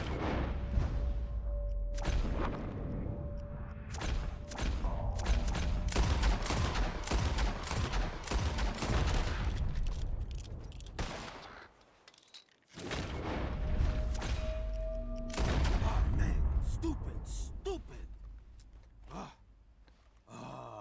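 Rapid gunfire crackles at birds in Red Dead Redemption 2, dense volleys of overlapping shots, loud and sustained, broken by a brief pause before another burst of shooting.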